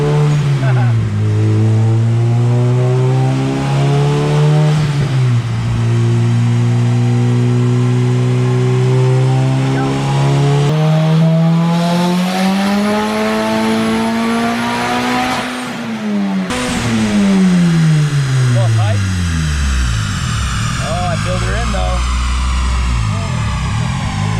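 A budget-build car accelerates hard through several gear shifts, its engine note climbing and dropping with each change while the tire spins; loud and close throughout.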